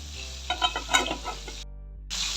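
Chicken fries in an oiled pan with ginger and green chilli, a steady close sizzle with a few stirring scrapes and clinks over it, briefly cutting out before the sizzle returns.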